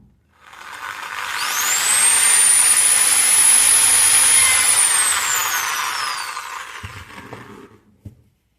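A power drill boring a hole in PVC for a Type-C charging socket on a homemade Kansa massage machine, a loud close whine that ramps up, holds for several seconds and winds down, ending with a couple of knocks.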